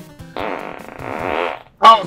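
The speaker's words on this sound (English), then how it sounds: "You're in control of when you're farting." A single drawn-out fart lasts over a second, loud and close, with a buzzy vibrating tone, followed by a short sharp burst at the end.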